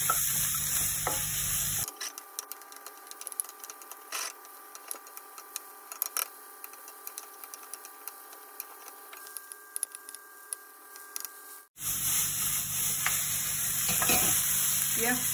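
Vegetables for Chinese chilli beef are stir-fried over high heat, a steady close sizzle with scattered ticks and scrapes of the spatula. The frying runs alone through the middle and gets louder and fuller near the end.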